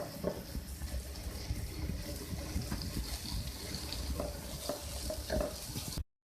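Vegetables with chopped tomato and green onion stir-frying in a pan for a chicken fajita vegetable spaghetti, a steady close sizzle with scattered clinks and scraping stirs throughout.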